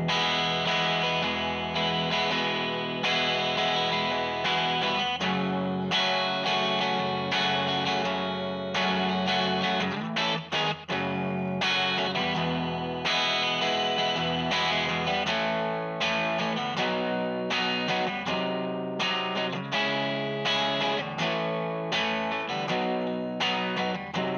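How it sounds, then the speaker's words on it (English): An electric guitar plays through a Vox VX II modelling amp on its deluxe clean model, with continuous chords and strummed passages, full and steady with a touch of effect. "So that was the deluxe clean"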